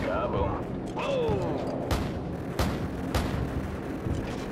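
A gunship in Call of Duty 4 fires on enemy personnel in a junkyard, sending several heavy, booming rounds at irregular intervals over a constant low rumble, with voices talking over it.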